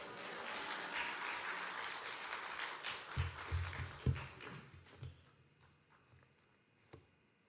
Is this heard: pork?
no